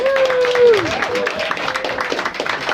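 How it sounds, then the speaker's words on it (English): Audience applause at a gathering for a beer brewing and distribution venture, a steady, dense patter of many hands with a brief tonal whistle-like sound near the start. "So give James and Julie a big round of applause."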